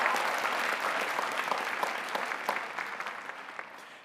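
A large commencement ceremony audience breaks into sustained applause, a dense wash of clapping that gradually fades over a few seconds.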